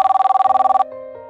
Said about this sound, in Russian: Бабушка, телефон звонит.